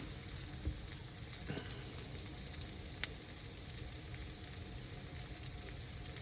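Home fries frying in a pan on the stove, a steady low sizzle running throughout with a few small pops and a soft scrape, close and fairly quiet, no one talking.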